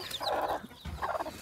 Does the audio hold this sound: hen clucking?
yes